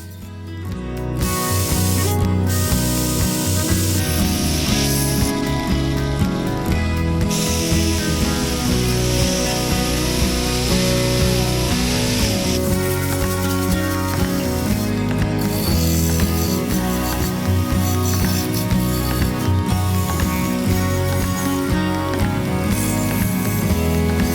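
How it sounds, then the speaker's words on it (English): Wire wheel grinding and smoothing a steel pirate sword blade in a workshop, a loud, continuous, harsh abrasive whir with shifting pitch as the blade is worked against the wheel, steady throughout with no talk. "Wire wheel smooths out everything."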